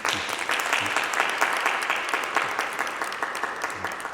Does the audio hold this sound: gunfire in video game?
no